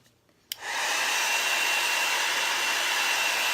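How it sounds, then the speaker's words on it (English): A hair dryer switches on with a click and blows steadily, a loud continuous rushing whoosh that holds without a break. "Hair dryer will work just as well."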